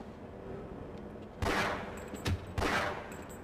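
Gunfire in the PS2 version of Half-Life comes as two loud bursts of shots with a single sharp shot between them, heard over a quiet background with no talking.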